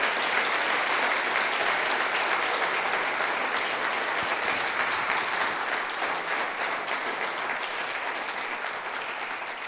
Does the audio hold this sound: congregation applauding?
yes